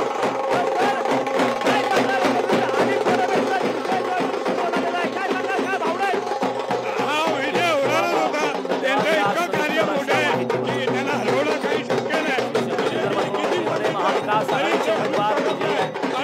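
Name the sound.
crowd of party workers celebrating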